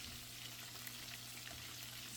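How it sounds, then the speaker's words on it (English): Cod fish fritters fry in a pan, giving a steady, quiet, crackling sizzle that continues evenly throughout with no voices. "We want to make sure that everything gets fried nicely."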